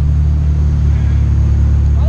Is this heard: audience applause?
no